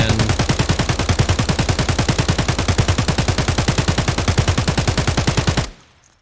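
A 5.45 AK with a 60-round magazine in Escape from Tarkov fires one long, sustained full-auto burst of rapid, evenly spaced loud shots for several seconds, then stops abruptly.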